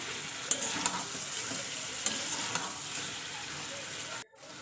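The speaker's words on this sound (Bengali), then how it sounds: "তারপর আমি খুলি খুলে ভালো করে মাংসটা কষিয়ে নিই" Chicken kosha sizzles and hisses steadily in a pan as it is stirred and fried dry, with a few light clicks of the spatula, before a brief cutoff near the end.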